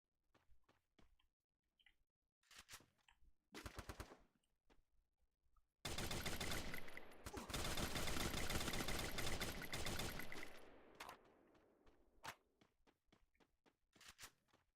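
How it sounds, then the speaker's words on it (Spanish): Gunfire in the Free Fire battle royale game: scattered single shots and short bursts, then a long dense stretch of rapid automatic fire, followed by further intermittent shots and footsteps, with no talk. "le he tirado varios tiros"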